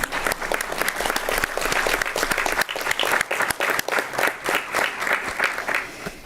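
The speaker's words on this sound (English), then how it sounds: "I think that's a round of applause." A room full of people at a school board meeting breaks into applause, sustained dense clapping with a few louder individual claps, steady throughout and fading slightly near the end.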